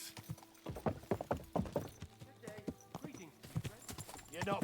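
Close, rhythmic clip-clop of a horse's hooves in Kingdom Come: Deliverance II, a brisk even trot that carries on throughout with faint voices mixed in.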